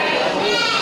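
Male goats and rams at the Gelumpang Payung animal market bleat in a loud, continuous crowded mix, with market chatter underneath.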